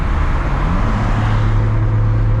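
A 750-horsepower MKIV Supra cruises in sixth gear, its engine holding a steady, loud low drone with road and wind noise close around it.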